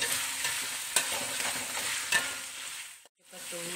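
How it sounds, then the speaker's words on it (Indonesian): Instant gulai spice paste is stir-fried in a pan for beef gulai, with a continuous close sizzle and occasional spatula scrapes before it briefly drops away. "Kita tumis ya bumbu instan tadi."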